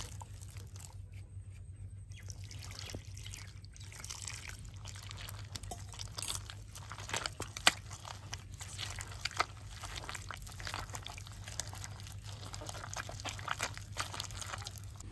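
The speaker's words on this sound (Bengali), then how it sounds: "একটু জল দিয়ে সুন্দর করে তালের মাড়িটাকে বের করে নিয়েছি।" Ripe palm fruit pulp is kneaded by hand with water for taler bora: soft, continuous squelching and wet crunching close by, with a steady low hum underneath and no talk.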